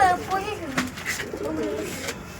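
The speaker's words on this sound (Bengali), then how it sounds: "এটা কি আরিয়ান আরিয়ান আরিয়ানের পোষা পায়রা" A pet pigeon coos softly in a few short, low murmuring phrases at close range, sitting beneath background chatter and other household noise.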